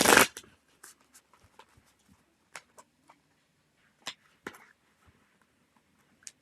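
Tarot cards being shuffled during a live reading: a brief rustling burst at the start, then sparse soft clicks and flicks scattered through near silence.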